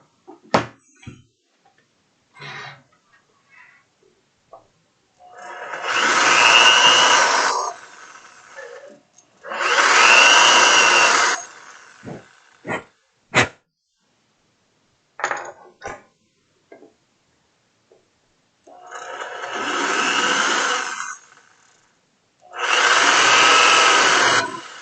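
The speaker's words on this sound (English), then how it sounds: "You don't want to drill plastic too quickly because it does melt." Power drill boring into plastic in four separate bursts, each whirring for about two seconds, close and loud, with handling clicks and knocks between them and no talk.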